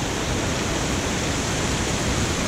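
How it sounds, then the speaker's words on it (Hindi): Fast water rushes down from above through a wooden channel in Shamsher Valley, Battagram, Pakistan, making a loud, continuous roar of broadband noise with no pauses. "ये देखें पानी ऊपर से आ रहा बड़ी स्पीड के साथ"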